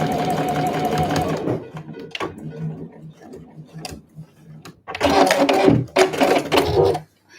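A sewing machine stitches a convenience-store-size eco bag in fast whirring runs, stopping and starting with pauses and quieter handling between bursts, close and clear.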